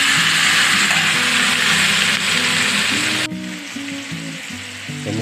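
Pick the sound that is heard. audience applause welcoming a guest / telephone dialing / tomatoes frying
tomatoes frying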